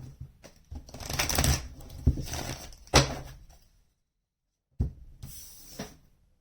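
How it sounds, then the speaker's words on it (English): Tarot cards being shuffled in several bursts of riffling and flapping, close and fairly quiet, with a brief silent pause before a final shuffle. "One more shuffle."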